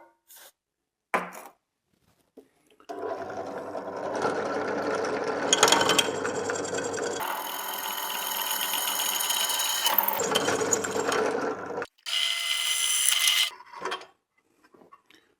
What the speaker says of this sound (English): So I'll go to the drill and make these holes.